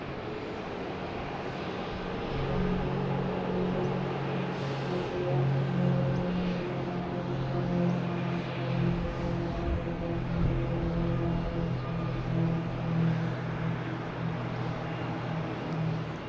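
A Delta airliner taking off at Boston's Logan airport, a steady distant jet engine roar with a droning hum that swells and holds for many seconds, heard alone from outdoors.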